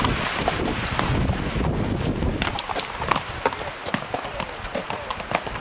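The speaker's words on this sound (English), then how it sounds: "Hear a little bit of our breeze." Breeze blowing over the microphone on a horseback ride along the Continental Divide, a constant loud rushing roar, with hoof clip-clops and faint voices underneath.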